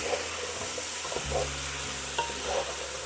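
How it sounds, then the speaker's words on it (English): The white parts of green onions fry in a pan with a steady close sizzle, and a few soft stirring knocks sound over it. "Fry that up a little bit. The white parts of the green onions."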